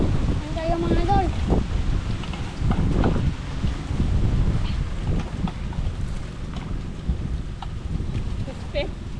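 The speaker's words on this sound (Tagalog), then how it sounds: "malakas ang hangin." Strong wind gusts outdoors at a cooking spot, buffeting the microphone in a loud, steady roar with low rumble throughout, while voices speak faintly underneath.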